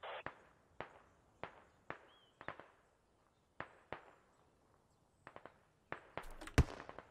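Distant gunfire from Russian soldiers in the video game Squad: sharp cracks in short bursts, spaced irregularly, with a louder close shot near the end and no talking over it.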